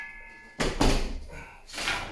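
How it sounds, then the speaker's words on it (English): A sliding closet mirror door made of glass is handled and flipped around, giving two bursts of close, rattling, scraping clatter separated by a short pause. "I'm gonna flip this door around."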